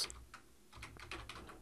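Fingers typing on a computer keyboard, a quick run of soft, uneven key clicks that come close together and stay fairly faint.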